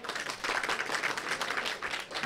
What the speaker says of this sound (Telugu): ఇప్పటికే చప్పట్ల ద్వారా తెలియజేస్తూ ఉన్నారు.